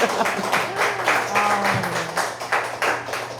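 A small group claps briefly in a quiet indoor setting to congratulate someone, light and fairly close, with a soft voice murmuring underneath.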